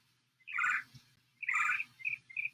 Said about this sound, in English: We'll notice the bird sounds, the water sounds flowing behind me.